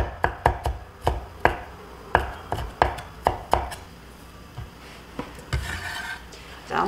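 Knife chopping on a cutting board while cutting ingredients for kkanpunggi, Korean-Chinese fried chicken. About a dozen sharp, close taps come in uneven bursts, with short pauses between them.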